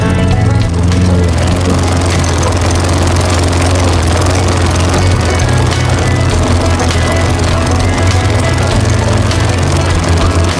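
A Lawnboy lawn mower engine, an older unit that had not been running, fires up and keeps going with a loud, steady buzzing drone close by that holds for about ten seconds.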